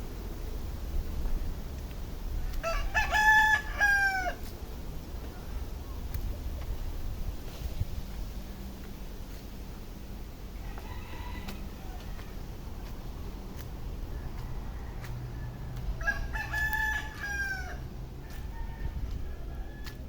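Two rooster crows ring out some distance away, one early and one late, with a fainter call between, over a low outdoor hum.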